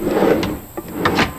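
A small drawer inside a Toyota Coaster motorhome slides open or shut with a woody rubbing scrape and a few light knocks and clicks, close and fairly loud, with no speech over it.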